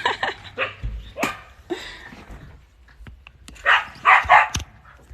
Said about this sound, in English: Crazy ass dogs.